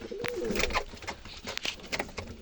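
Pigeons coo softly in a home coop. Several low, throaty coos overlap with faint rustling and flutters, heard close but quiet.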